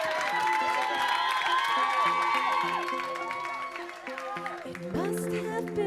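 A live studio audience cheers, whoops and applauds loudly and steadily for a pop group as they are introduced, with music playing underneath the crowd noise throughout.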